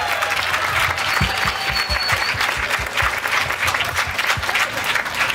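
Steady, full round of applause from a wedding reception crowd after the best man's toast, dense continuous clapping at close range with no talking over it.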